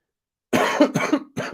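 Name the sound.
cough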